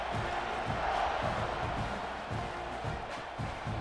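A college football stadium crowd at a Florida Gators vs Texas A&M Aggies game roars in a broad, sustained wave of cheering before a kickoff, loud and steady throughout.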